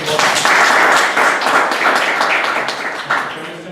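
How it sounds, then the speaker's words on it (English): Audience applause at a Toastmasters club contest, a loud steady patter of many hands clapping nearby that gradually thins out toward the end. "Audience, please give them a big round of applause."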